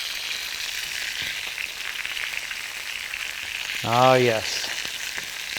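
Pork chops searing in a hot pan, a steady sizzle and crackle of frying fat running throughout, with a brief spoken interjection near the end.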